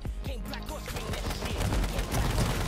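Rifle fire from a .308 in H1Z1 King of the Kill crackles in dense, overlapping bursts, loud and close throughout.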